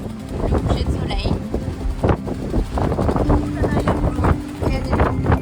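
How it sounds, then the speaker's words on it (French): Wind buffets the microphone steadily at a seaside sunset spot on Con Dao island, a loud rushing roar under a person talking throughout. "Il y a du vent."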